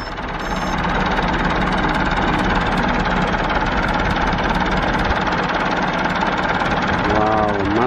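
A Massey Ferguson MF 165 tractor works a muddy field in Tay Ninh, its diesel engine rising quickly to a steady, loud, close chugging run, with a brief voice near the end.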